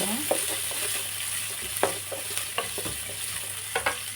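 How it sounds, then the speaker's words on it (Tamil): Chopped garlic and onions sautéing in a pan for a home lunch-box recipe, a steady sizzle broken by several sharp scraping stirs of a utensil, close and with no one talking. "போட்டு நல்லா வதக்கி விட்டுருவோம்."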